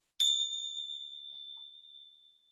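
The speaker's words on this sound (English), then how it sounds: "we'll start and finish with the sound of the bell" A single meditation bell strikes once, ringing clear and bright, then fades slowly across a couple of seconds in otherwise silent surroundings.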